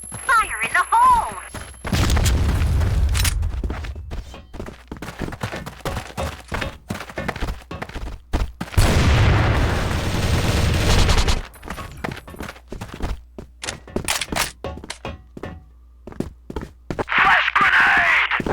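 Video game combat with bursts of rapid gunfire and a grenade explosion giving a long, loud rumbling blast in the middle, while players shout callouts between shots.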